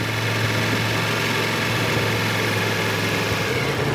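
A motorcycle engine holds a steady throttle, a continuous loud drone with a constant low hum and even vibration, unchanging from start to finish with no voices.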